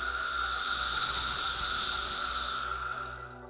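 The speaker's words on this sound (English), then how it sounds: "Magicicada cassini makes clicks followed by a buzz." A Magicicada cassini cicada gives a loud, sustained high buzz that swells, holds steady for about two seconds, then fades, with faint clicking at the start.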